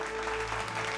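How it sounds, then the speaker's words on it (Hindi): Loud applause from an audience, a dense burst of clapping filling the whole second with no talking. "एक बार जोरदार तालियां"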